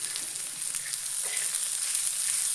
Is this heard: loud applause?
no